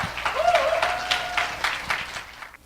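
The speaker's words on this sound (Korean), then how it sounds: "여러분 큰 박수 부탁드릴게요." Audience clapping at a Pilates equipment launch show, scattered individual claps audible over a steady wash of applause, with a tonal sweep of music or feedback rising early and the clapping thinning out near the end.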